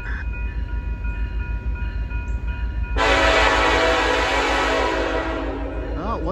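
Norfolk Southern SD70ACE diesel locomotive leading a manifest train, with a rumbling engine drone and a loud horn blast starting midway at a grade crossing.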